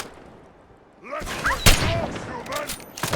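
Gunfire in the video game Fallout 4: after a quiet start, a burst of loud shots and rattling fire erupts, mixed with voices talking.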